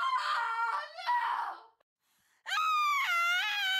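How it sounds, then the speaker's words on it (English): Loud, strained wails and screams from characters in the video game Married in Red, two bursts of harsh cries, a brief silence, then a longer sustained shriek, with no talk over them. "Just heard screaming and..."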